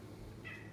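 A cat gives one short, faint meow in a bar setting, rising briefly over a steady low background hum.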